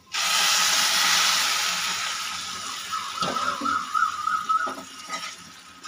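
Hot water is poured into a cooking pot of browned butter pulao with chicken, a loud hissing, sizzling rush at first that fades into softer bubbling and clatter.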